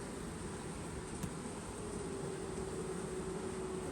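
Honeybees from a newly installed package hive buzz in a steady, low droning hum close by, continuous and even throughout with no speech.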